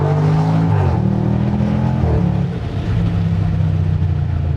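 Range Rover Sport SVR Carbon Edition V8 engine revving loudly nearby, a deep roaring tone that rises, drops back and swells again in short bursts, with sound reflecting off a nearby embankment and no talking.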